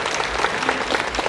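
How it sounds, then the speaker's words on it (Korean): A church congregation gives a short burst of warm welcoming applause for a visitor, many hands clapping together indoors, close and lively. "잠깐 일어나면 저희가 환영의 박수를 하겠습니다."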